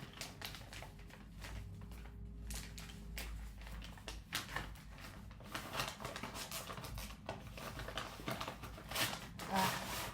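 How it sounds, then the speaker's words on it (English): A pretty gift-wrapped Christmas package is opened carefully by hand, its paper crinkling and rustling close up in steady bursts over a faint low background hum. "I'm going to try and see if I can unwrap it without actually ruining the package itself"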